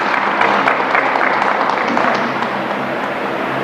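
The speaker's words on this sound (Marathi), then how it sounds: "अरे टाळ्या वाजवा राव, एवढी सांगते गोष्ट." Audience at a debt-relief guidance camp for borrowers breaks into applause, a dense, even clapping from a sizeable crowd that holds steady and fades slightly toward the end.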